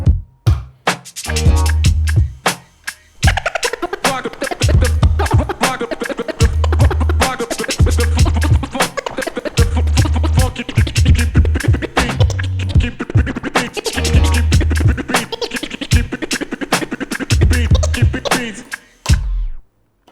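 A DJ scratches a vinyl record over a thumping beat with fast traveling chirps, a steady stream of close, sharp scratch strokes riding over a regular kick pattern for about twenty seconds.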